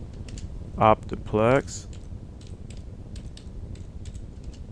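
Keys clicking at an irregular pace on a computer keyboard during data entry, close and steady throughout, with a brief spoken word partway through.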